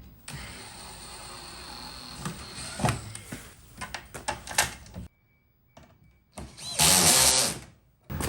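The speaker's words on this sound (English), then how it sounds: "Just gonna go ahead and drill this last one here and then mount that underneath." A power drill bores a hole while a rear diffuser is mounted on a car, loud close bursts of whirring with stops and handling clatter, then a final strong burst.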